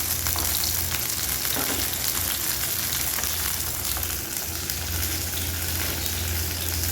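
Fish frying in hot oil for a South Indian meen varuval, with garlic on top: a loud, dense, continuous sizzle and crackle that holds steady throughout.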